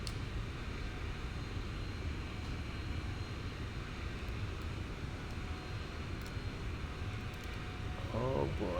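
Steady airplane engine drone at full throttle in a flight simulator game, a constant loud broadband hum that barely changes throughout.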